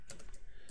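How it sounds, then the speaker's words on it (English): Fingers type on a computer keyboard while entering router commands, including a press of the tab key. Several quick, soft keystroke clicks come in an uneven rhythm, close by and fairly quiet. "hit the tab key on my keyboard"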